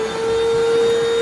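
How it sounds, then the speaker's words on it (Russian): A household vacuum cleaner runs steadily at close range, its constant motor whine with a strong tonal hum and broadband airflow rush holding level throughout, with no voices over it. "Так, все, теперь я сейчас, Кира, включу пылесос."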